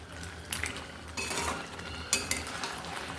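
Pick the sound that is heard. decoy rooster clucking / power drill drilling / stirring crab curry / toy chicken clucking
stirring crab curry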